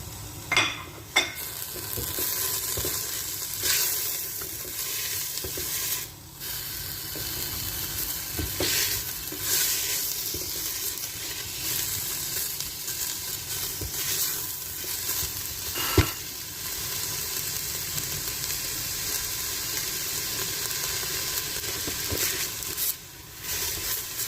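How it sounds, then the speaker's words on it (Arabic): Onions fry in melted butter in a cocotte for a butter-roasted chicken dish, a loud continuous sizzle with occasional stirring scrapes and utensil knocks, no voices. "ونحطوا الكميه نتاعنا نتاع البصل"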